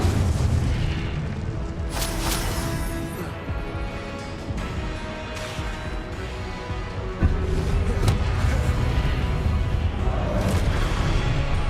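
Repeated Confringo and Incendio spell explosions in the Hogwarts Legacy video game, a dense run of loud booming blasts and fiery bursts over a constant rumbling bed, with sharp hits near the start and another surge midway.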